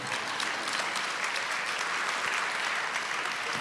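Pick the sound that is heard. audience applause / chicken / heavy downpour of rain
audience applause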